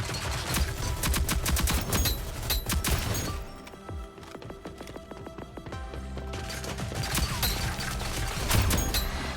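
Rapid gunfire in the Rogue Company video game, dense loud bursts of automatic shots with a brief lull before the firing resumes steadily.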